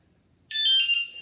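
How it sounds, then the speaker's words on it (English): A wsdcam 113 dB wireless vibration motion-sensor bike alarm gives one sharp, loud electronic beep when the bike is rocked, set against near silence. "I rock it more and more and more and more and more and more and more, and then I finally get a second beep"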